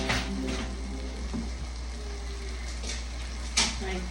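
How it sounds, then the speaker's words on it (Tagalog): Food frying in avocado oil in a pan on a home stove, a steady close sizzle with a constant low hum beneath it and a few faint clinks of stirring, with no voices. "Pina-fry ko siya."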